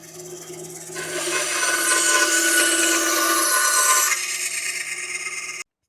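A WEN 9-inch band saw hums, then bites into a piece of oak or poplar with a loud, steady rasping cut lasting a few seconds before easing back to the idling motor.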